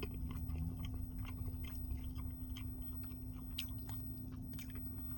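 Someone chewing cold, salted fast-food French fries close to the microphone, soft crunchy bites and mouth sounds repeating irregularly over a steady low hum, with no talking.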